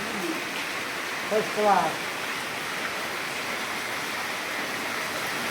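Heavy afternoon rain falls as a steady, even hiss heard from a sheltered spot, with someone briefly speaking a few words near the start.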